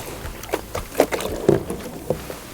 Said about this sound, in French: Et ensuite on peut mettre à l'eau directement.